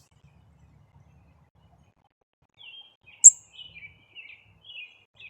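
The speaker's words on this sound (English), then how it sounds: "He hears the other birds." Several wild birds, robins among them, call outdoors in a quiet setting, with a series of short, high chirps and whistles at moderate distance, one sharp louder note standing out.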